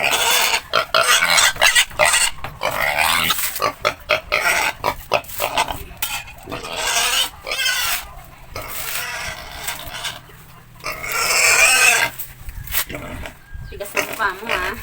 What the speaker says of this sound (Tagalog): Ang ingay ng baboy nito.